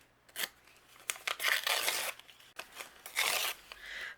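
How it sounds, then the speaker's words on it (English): Paper is torn by hand for a Halloween mummy card, giving two long, loud ripping bursts up close, each broken by short rustles and pauses. "just tear your paper"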